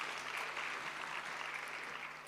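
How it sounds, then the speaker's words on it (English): An audience at an anniversary celebration applauds its host, a steady, fairly faint wash of clapping from a distance that holds evenly throughout. "A round of applause once again for our host."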